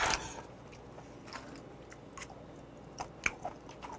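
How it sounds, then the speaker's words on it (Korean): Goose barnacles dipped in sesame oil and salt are chewed close up: soft, wet crunches and bites, mostly faint, with a few sharper crackles toward the end and no talking. "기름소금 찍어 먹으니까 너무 맛있다"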